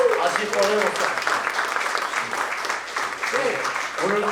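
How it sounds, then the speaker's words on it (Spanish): An audience at a church gathering claps continuously throughout, a dense, close patter of many hands, while a voice speaks over the applause at the start and end. "그럼 여러분이 감사합니다, 축하합니다라고 박수를 쳐주셔요"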